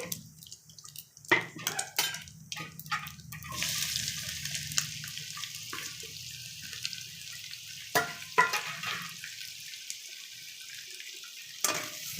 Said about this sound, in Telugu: ఆ ఎర్రగడ్డలు కూడా ఇందులో వేసేసుకున్నాము ఇదే ఆయిల్లో ఫ్రై చేసుకోవాలి